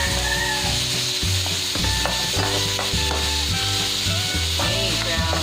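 Ground beef and grated onion sizzling in a pan for Filipino-style spaghetti, a steady loud sizzle broken by repeated wooden stirring scrapes and knocks, close and without speech.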